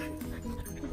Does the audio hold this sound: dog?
yes